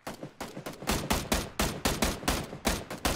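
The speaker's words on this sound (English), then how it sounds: "That's a shotgun." Shotgun fire in the battle royale game PlayerUnknown's Battlegrounds rings out as a loud, close series of about a dozen sharp blasts at a quick, fairly even pace, each with a short decaying tail, with no talk.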